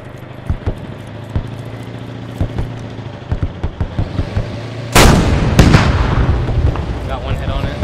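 In the video game Squad, a string of sharp gunshots gives way to a sudden, heavy boom of tank cannon fire followed by a rumbling tail, with players talking over the action.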